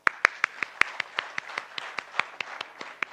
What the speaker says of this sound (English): Let us first welcome with a resounding applause the board of iFinance Limited